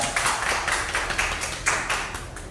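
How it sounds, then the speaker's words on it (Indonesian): A school audience at an Indonesian primary school (SDN Manyaran 3) claps in light, uneven bursts, fairly faint and somewhat distant, with a few louder swells. "Tepuk tangan."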